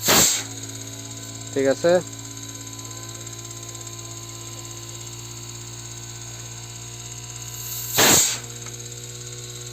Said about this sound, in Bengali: এই তো কম্প্রেসার চালু হয়ে গেছে।